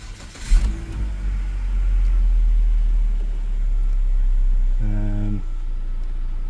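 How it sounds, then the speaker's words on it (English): A 2017 Holden Barina Spark with 68,000 on the clock starts up, and a short burst of cranking settles into a steady idle, then a brief rev lifts the engine note before it eases back, heard close inside the car. "I'll just start the car up."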